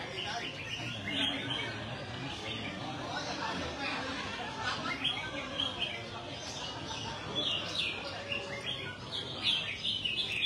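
Songbirds at a bird singing contest in a garden club chirp and warble continuously, many birds overlapping at moderate distance, with a voice commentating intermittently beneath.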